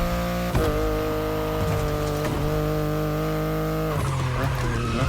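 A BMW i8 in The Crew Motorfest racing game drives with a loud, steady engine drone, its pitch stepping through gear changes, with a tire squeal partway through and no talking.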